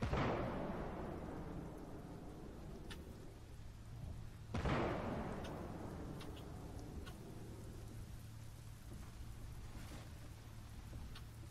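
Distant heavy booms from a PLZ 05 self-propelled artillery gun firing in a combat video game, two big rumbling blasts a few seconds apart over a steady low drone, with faint thuds trailing off.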